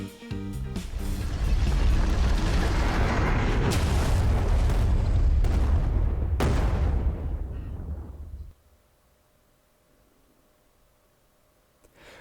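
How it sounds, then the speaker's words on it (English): A huge explosion erupts as a superhero and supervillain crash into a dormant supercomputer in a game, a sustained roaring blast with sharp crackling bursts that rumbles loudly for several seconds before cutting off into near silence. "both superhero and supervillain slam into the dormant supercomputer, and the ensuing explosion sends me flying backwards"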